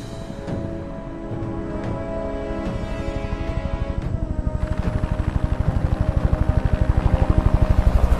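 A helicopter's rotor thumps rhythmically and grows steadily louder and faster, the engine whine rising as it lifts away, with no voices.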